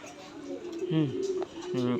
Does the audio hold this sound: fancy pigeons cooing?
yes